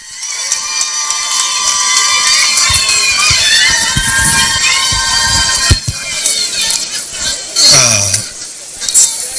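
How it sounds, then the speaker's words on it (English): Crowd cheering and applauding at an outdoor road flag-off ceremony in Nigeria's Federal Capital Territory, a steady dense roar of claps and shouts from many people that swells and dips, with scattered higher voices and a brief clink late on. "A round of applause for him."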